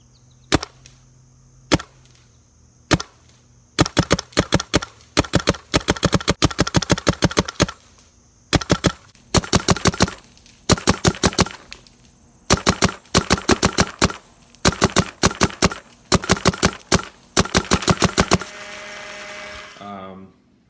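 An SP Shocker CVO paintball marker with a rotor hopper and air tank fires loud, snappy shots, first singly and then in fast rippling strings separated by brief pauses, with a faint hiss running underneath.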